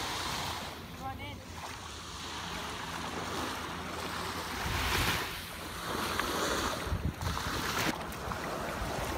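Calm sea water at Miami Beach laps and washes softly in gentle surges, faint and close, with wind brushing the microphone and a few distant bird calls; a voice murmurs briefly under the water.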